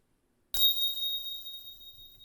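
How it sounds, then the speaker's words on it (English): A bell in the visual novel Never7 slips from a hand and lands with a single bright ding, the clear metallic ring sustaining and slowly fading with no talk. "Same ding sound, and falls."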